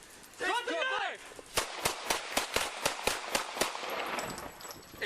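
A rapid string of about a dozen sharp gunshots rings out during a police confrontation with a knife-wielding suspect, loud and evenly spaced after a brief burst of shouting.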